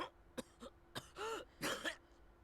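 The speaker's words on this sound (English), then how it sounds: "I heard Okita-san begin to cough." A short series of dry coughs and throaty hacks from a video game character, several sharp bursts in quick succession, fairly close and with no talking.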